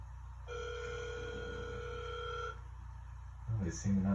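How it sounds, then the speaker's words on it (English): A telephone ringing tone sounds in one steady two-second burst, followed by a short pause and the start of a line connecting, heard during a podcast call-in. "let's ring them up right here"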